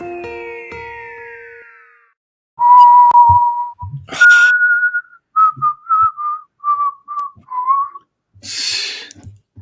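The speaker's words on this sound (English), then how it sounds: "I was whistling while it was playing" A person whistles a theme in a series of clear, loud sustained and clipped notes, with a short tonal sweep and pause before the melody and a breathy burst near the end.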